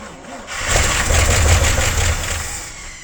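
A knuckle boom crane engine running on gasoline is cranked over, a rough churning starter-and-engine rumble that swells after half a second and holds for about two seconds before easing, close and loud, with no clear speech.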